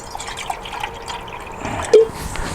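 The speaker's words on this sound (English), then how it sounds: "I'll cheat my enamel mug. I'm only gonna put about 6 ounces of water in it." Water pours into an enamel mug at a campsite, a small liquid trickle with light drips and one clearer splash near the end, heard close up against faint outdoor background.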